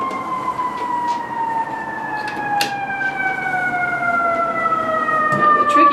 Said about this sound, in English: is just a day of sirens.